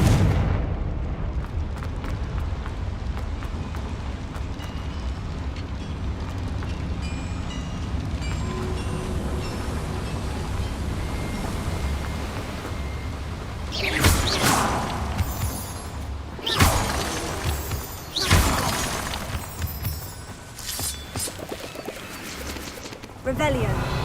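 Fire spell explosions in Hogwarts Legacy, several sharp booming blasts in the latter half over a low rumbling game background.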